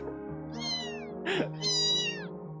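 Cats meow close by, with two drawn-out calls on either side of a short, sharp cry in the middle, and no voices.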